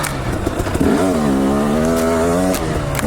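A motorcycle rides down a dirt trail, its engine close and loud, revving up in a rising drone that settles into a steady pull before easing off, with some clattering over the ground.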